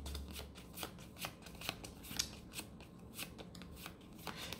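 A deck of playing cards being shuffled during a card game, soft riffling and slapping in a quiet, steady rhythm, close up with no talking.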